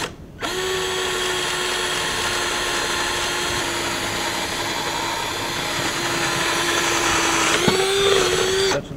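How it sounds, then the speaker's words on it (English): A power drill with a 5/8 inch bit bores through 2x4 lumber for a skateboard drop-in ramp, a loud steady whine that holds for several seconds before the motor pitch shifts and it winds down near the end. "To drill through this one, I have a 5/8 inch bit"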